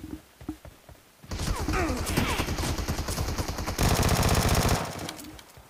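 Gunfire in PUBG Mobile: a few scattered shots and thumps open the clip, then long rapid automatic bursts rattle densely for several seconds before stopping abruptly.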